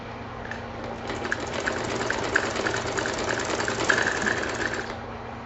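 A sewing machine runs steadily as it stitches fabric for a ladies' or kids' garment, a continuous fast mechanical whir with rapid needle clatter, close and alone.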